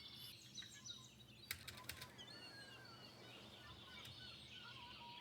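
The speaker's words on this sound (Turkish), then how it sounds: "Her yerde martı sesi var ya." Seagull cries from Minecraft game ambience: scattered, fairly faint high calls drift over a soft continuous background, with a few short sharp clicks near the middle.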